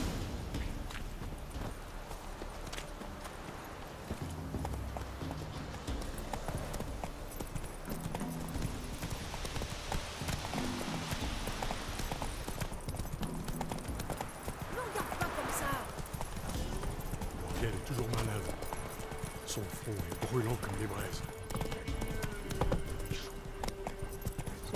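Horse hooves clip-clopping steadily in The Witcher 3, several horses walking at a moderate pace amid ambient game sound, with voices speaking over it.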